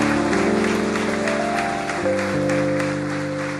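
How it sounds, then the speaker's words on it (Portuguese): A church congregation at a 2016 convention applauds while sustained music plays, the clapping blended steadily beneath a continuous organ-like tone throughout. "Vamos aplaudir Jesus"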